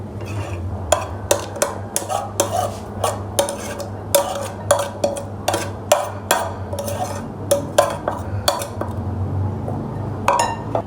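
A spoon scrapes and knocks against a bowl while vegetables with chicken powder, salt, black pepper and garlic paste are mixed, giving a steady series of close, sharp clinks over a low background hum, with no talk.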